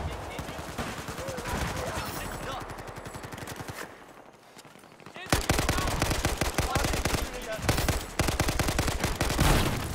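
Rapid automatic rifle fire from an AK5C in Battlefield 4, loud and close, with dense bursts that pause briefly mid-clip before resuming even harder.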